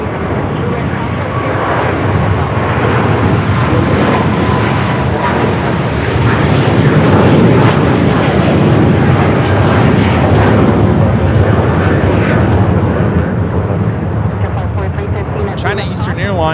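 A China Eastern Airlines Boeing 777-300ER roars through its takeoff run at LAX, bound for Shanghai, a loud sustained jet rumble holding steady for the whole stretch, with voices talking over it.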